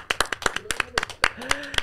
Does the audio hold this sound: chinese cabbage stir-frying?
no